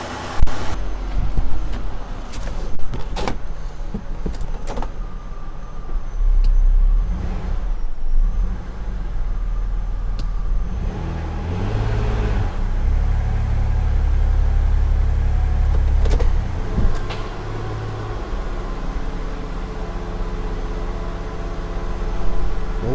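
A Ford Escape with a P1506 high idle fault running in drive, a steady low engine rumble that stays raised over a long stretch, with occasional clicks and knocks nearby and no talking.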